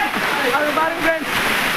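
Water pouring down from rocks at Jalagamparai waterfall makes a steady rushing splash close by, under a voice speaking throughout.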